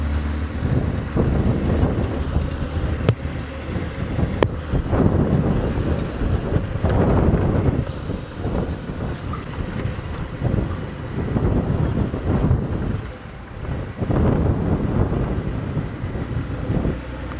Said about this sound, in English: let's see what else we can find on this windy morning.